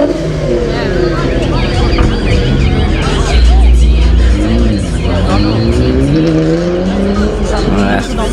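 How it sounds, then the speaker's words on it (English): Wide-arch Liberty Walk bodykitted car leaving a car meet at a detailer's grand opening, its engine revving hard with rising and falling pitch sweeps and some tire squeal, loud and close amid crowd chatter. "Looks like the wide arch Liberty Walk car is leaving."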